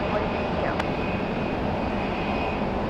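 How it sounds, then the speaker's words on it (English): A Delta Boeing 737 jet takes off from Raleigh Durham International on a rainy day, its engines giving a steady, broad roar from a distance, alone with no talking. "Delta cleared for takeoff already."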